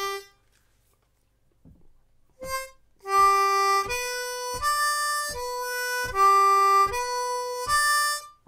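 Beginner harmonica riff of sustained reedy chords, after a quiet pause and one short note, then a run of held breathed notes in an even rhythm, close and solo.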